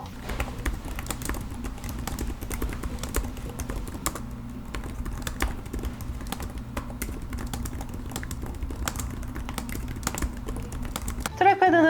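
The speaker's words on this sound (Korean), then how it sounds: "비교적 타이핑 소음이 적어서 조용한 장소에서 사용을 해도 크게 눈치 보이지 않아서" Rapid typing on a Samsung Galaxy Book3 Ultra laptop keyboard, close by, with a quick irregular run of light clicks and taps continuing throughout.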